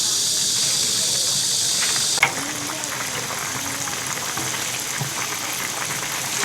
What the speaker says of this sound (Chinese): 油热下鸡。